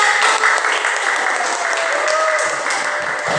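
Students clapping together in a classroom during a microteaching lesson on religious studies, a steady, fairly loud burst of many hands at once with a faint voice briefly mixed in.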